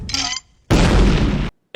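Resurrection cannon firing in an animated Futurama episode, a loud, blunt cartoon boom lasting under a second after a short tonal lead-in, then cutting off abruptly, with no talk over it.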